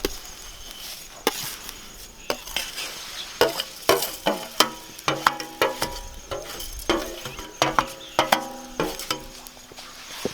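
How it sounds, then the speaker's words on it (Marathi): Roasted vermicelli stirred in boiling water in a pot over a village wood-fired stove, with repeated sharp spoon knocks and scrapes in an uneven rhythm over a low bubbling hiss. "त्यामध्ये आपण भाजलेल्या शेवया घालून घेऊया"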